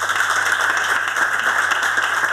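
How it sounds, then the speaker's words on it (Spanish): An audience claps in a dense, steady round of applause, loud and even throughout with no voices over it. "me gustaría pedir un aplauso para ella"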